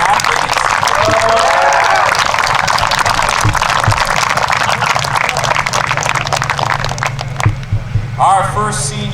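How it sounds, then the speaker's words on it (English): Applause from a crowd at a high school senior night honouring senior soccer and cross country athletes, loud and sustained, with some voices and cheers mixed in and a few brief tonal squeals near the end. "let's give this a big round of applause for our senior athletes"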